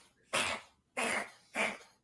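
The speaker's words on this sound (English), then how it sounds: "my cat is coughing up a storm here" A cat coughs three times in quick succession, each a harsh, breathy hacking burst separated by short silences, close and alone.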